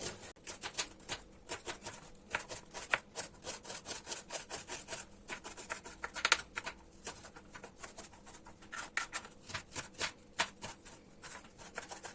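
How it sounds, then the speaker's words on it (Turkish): Onions being chopped on a cutting board for a Turkish börek, a quick irregular run of crisp knife taps and scraping strokes, fairly quiet and close, with no talking. "Hemen soğanlarımızı doğrayaraktan başlayalım."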